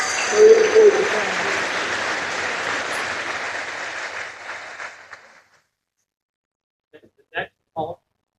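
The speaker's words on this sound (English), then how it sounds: "Let's give them a round of applause" Audience applause for elected officials at a senator's town hall meeting, a dense burst of clapping that fades to silence, then a few isolated sounds, with talk at the start.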